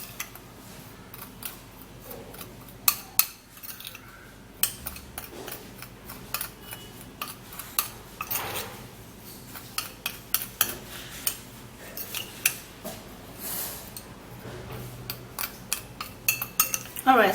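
A spoon clinks and taps irregularly against a bowl while face mask ingredients are mixed, with sharp metallic ticks and scrapes recurring throughout at close range.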